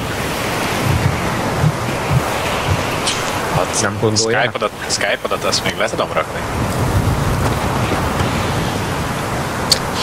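Storm wind and crashing waves roar loudly in the Battlefield 4 game, a broad, continuous rush that persists while players talk over it in the middle.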